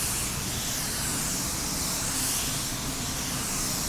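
SX103 is sprayed as a fine mist across a whole car panel. The spray gives a steady, even hiss that carries on without a break for the full length.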